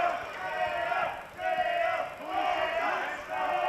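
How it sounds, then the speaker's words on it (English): A crowd at a Clanwars title fight shouts and roars, pressing the fighters to act. It rises and falls in long surging waves and stays loud throughout, with no single voice standing out. "The crowd are urging for urgency,"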